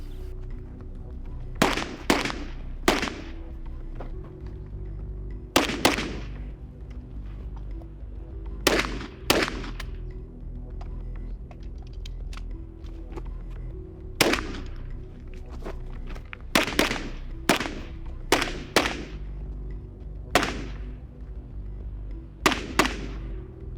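A pistol caliber carbine fired on an outdoor range while the shooter moves around vehicles and barriers: loud, sharp shots come in quick pairs and short strings, separated by pauses with faint footsteps.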